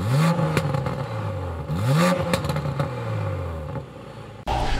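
A 2020 Toyota Supra Launch Edition with an AIMGAIN Valvetronic exhaust revs in three sharp blips, each rising and falling back to a burbling idle with crackles, close and loud.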